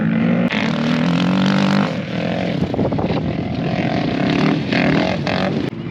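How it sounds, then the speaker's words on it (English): Off-road vehicles roar around sand dunes in an off-road vehicle area, a dense, loud wash of engines rising and falling in revs from several machines at once, with sharp clicks breaking through. "it's an off-road vehicle area, so it's pretty noisy with all these people with their big toys"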